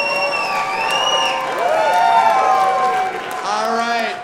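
A studio audience cheers, whoops and applauds for a contestant named Mark on a dating game show, a steady crowd roar with shouted voices rising and falling throughout.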